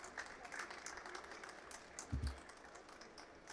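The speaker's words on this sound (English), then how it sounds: "Can you please have a louder applause for everybody," Audience at a consumer electronics expo inaugural session applauding, a faint steady patter of many hands clapping in a large hall, with a brief low thump partway through.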